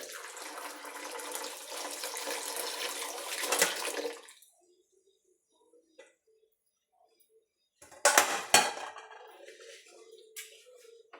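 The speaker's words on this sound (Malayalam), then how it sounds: "ഇനി നമുക്കിതിനകത്തോട്ട് ശർക്കര പാനി അരിച്ച് ഒഴിക്കാം" Jaggery syrup for a broken-wheat payasam is strained and poured into a pot, a steady liquid stream for about four seconds. It falls quiet, then a second short, sharper burst of pouring and splashing follows.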